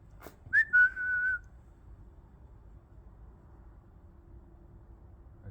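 Inside an abandoned boys' village, a single short whistled note, bright and slightly wavering, follows a couple of quick blips, then faint background hum continues alone.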